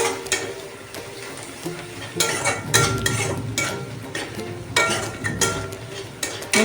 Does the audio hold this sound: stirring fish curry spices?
yes